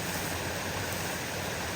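A natural forest stream in Korea flows steadily, a continuous, even rush of water with no voices.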